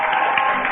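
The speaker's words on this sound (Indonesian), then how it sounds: "Tepuk tangan buat Raffi dan Gigi." Wedding guests clapping for the bride and groom Raffi and Gigi, a brief, steady wash of applause heard through a narrow, band-limited broadcast sound.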